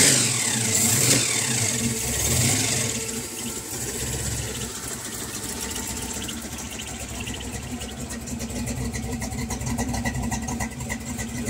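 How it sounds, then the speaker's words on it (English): A 1939 Studebaker Pro Street car's engine revs in a couple of loud, close blips before settling into a steady, rumbling idle, with no talking over it. "do a couple little rev ups"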